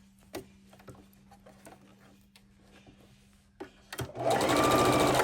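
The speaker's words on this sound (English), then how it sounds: "So we have our first block and we're going to sew it to the sashing of the second block." A sewing machine stitches scrappy quilt blocks to their sashing, with quiet handling clicks first and then a loud, steady run of rapid stitching over the last second or so.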